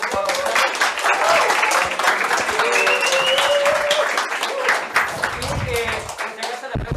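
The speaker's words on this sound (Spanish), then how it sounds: "Así que un aplauso para Gonzalo" An audience at a 2022 pizza seminar gives a sustained round of loud, dense applause after a talk, the clapping holding steady for several seconds with a few voices mixed in.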